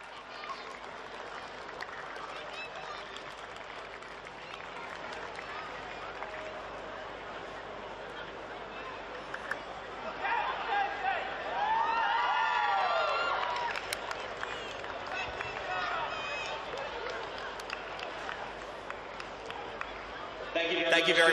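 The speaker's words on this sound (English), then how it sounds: "Please, a warm round of applause for Mackenzie Janes, Bailey Jacobson, Abdull" Crowd applause and cheering for the match officials at an NPL Men's Grand Final football match, a steady murmur of clapping and voices that swells louder midway, with whistling tones and crowd noise rising again at the end.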